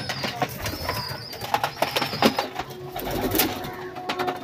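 White pigeons coo in soft, repeated throaty calls close by, with a few wing flutters and light shuffling among them.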